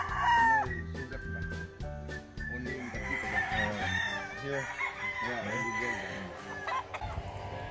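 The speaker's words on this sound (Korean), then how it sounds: "이 닭이 여기 농장에서 챔피언 닭이라고 하네요." A champion fighting rooster crows among clucking chickens on a Philippine gamecock farm, with several close, overlapping calls that rise and fall through the stretch and no voices.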